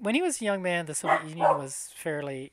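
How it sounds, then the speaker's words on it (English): A dog barks and yips at home, close by and mixed in with someone speaking over it. "sorry, that's my dog."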